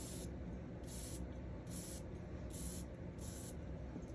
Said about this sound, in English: it sprays long, and I like it.